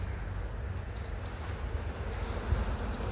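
A steady, dense buzzing hum of many honeybees in a queen-bank hive, close by and continuous, with no voices.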